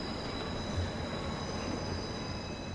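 Steady in-game train ride from Final Fantasy XIV Endwalker, a continuous rumbling roll of wheels on rails with a faint metallic squeal, constant and close with no talking.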